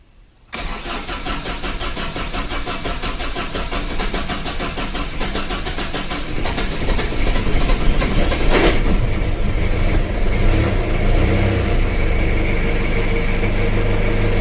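A hard-starting car engine with an overheating fault and radiator coolant spraying out, cranking on the starter for a long stretch, a steady loud mechanical churn that grows slightly stronger partway through and runs without letup.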